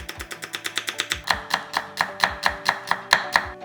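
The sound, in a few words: knife thinly slicing garlic and onion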